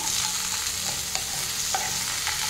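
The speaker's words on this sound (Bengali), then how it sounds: "এবার এটা একটু ভাজা ভাজা হতে দেবো" Vegetables with small cut potato pieces sizzle steadily in a pan for a Bengali sukto, with a few faint stirring scrapes over the constant close frying hiss and no talking.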